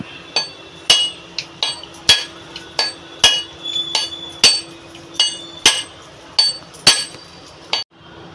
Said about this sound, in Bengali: আমি এই যে নারকেলটা ফাটিয়ে নেব